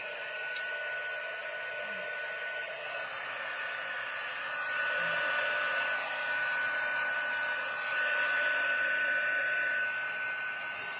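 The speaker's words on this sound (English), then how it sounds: "And last time we're using the heat tool." A heat tool blows a steady, whooshing hum while melting embossing powder on a stamped card, close and continuous, rising slightly in loudness midway.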